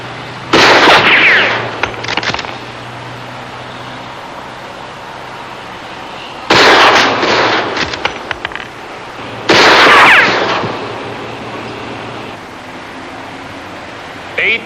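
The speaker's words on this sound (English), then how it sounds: "would you reperform the demonstration shooting for us?" Rifle shots in a courtroom demonstration shooting, three loud cracking blasts spaced a few seconds apart, each followed by a short echoing rattle in the room.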